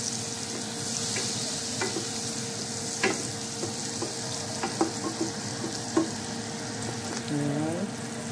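Butter melts in a pan over low heat, giving a steady soft sizzle with a few light clicks of a utensil against the pan.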